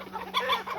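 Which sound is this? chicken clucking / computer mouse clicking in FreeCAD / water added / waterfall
chicken clucking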